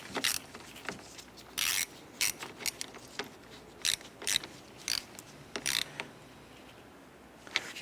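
A hand ratchet snugs down the positive battery terminal on a 1993-1997 Ford Ranger, giving short bursts of close, crisp clicking separated by brief pauses.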